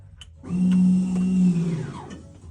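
A Tech 53 electronic rear parking brake engages from a dash switch, giving a close, steady motor whine that lasts about a second, then a descending wind-down as the mechanism stops.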